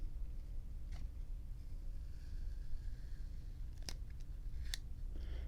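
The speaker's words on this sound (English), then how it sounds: "Peel off our orange sticker." Orange sticker peeled off a lighter (Virgin River Zion V.2 design), a faint close rustle and scrape with a few sharp crinkly ticks near the end, over low room hum.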